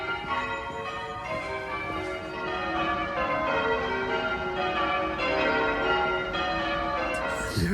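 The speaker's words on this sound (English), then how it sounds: "I thought the bells are ringing because of the wedding." Church bells peal for a wedding in a Cotswolds village in winter, a continuous ringing of overlapping tones heard from nearby with no talking.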